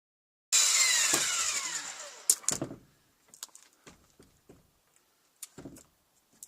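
A corded power tool starts up close and loud, whining for under two seconds as it spins down, followed by a string of short knocks and taps while hanging a door.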